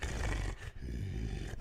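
A man imitates a growling wolf's breathing with deep, rough, roaring exhales from the chest, close and loud, broken by brief pauses between breaths.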